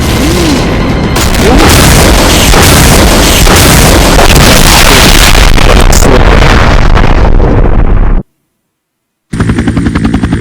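Rocket launcher explosions in the Resident Evil remake roar loud and dense, with booming blasts and rumbling debris that run on for about eight seconds. A sudden silence follows, then the din briefly returns.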